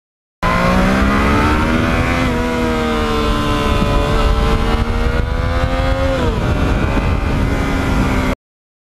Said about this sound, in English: it seems the MT09 is the happiest when it's on twisty back roads